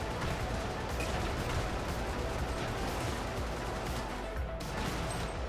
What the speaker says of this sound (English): This audio cannon is glorious.